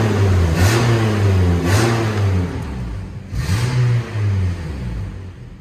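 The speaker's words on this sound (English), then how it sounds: "It's got an exhaust leak." A 2012 Nissan Altima engine with an exhaust leak gives a loud, close roar that swells and eases in repeated revs, its low droning note rising and falling with each press of the throttle.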